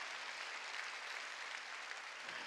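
Church congregation clapping at a Korean worship service, a steady dense applause filling the room throughout, moderately loud and continuous with no voices over it.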